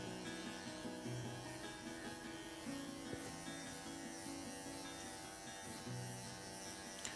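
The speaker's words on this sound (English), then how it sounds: "I'm just tidying over the clipper work again now that her shape's in" Electric clippers run continuously while grooming a cockapoo, a steady, faint buzzing hum with small shifts in pitch as the blades move through the coat, with no talking.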